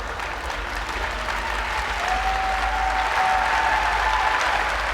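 Sustained applause from a crowd in an indoor aquatics venue during a para swimming race, steady and dense for the whole stretch, rising slightly midway, with a faint whistle-like tone running through it.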